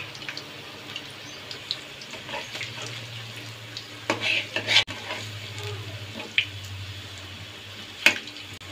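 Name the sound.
eggplant pakoras frying in oil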